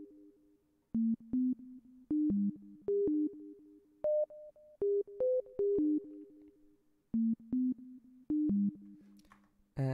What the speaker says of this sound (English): this is the preset simple sine, right here